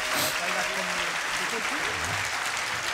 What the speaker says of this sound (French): Vous pouvez applaudir le groupe de louange?